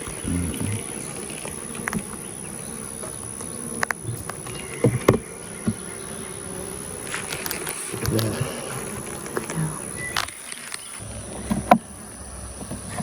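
Honey bees buzz in a dense, steady drone over the comb of an open beehive on a hot day, close and continuous, with faint clicks and handling noises scattered through it.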